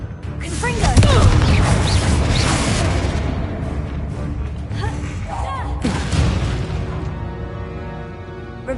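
Confringo spell blasts go off in Hogwarts Legacy, heavy booming thuds and crashes, the strongest near the start and another later on, set amid busy game sounds and a talking voice.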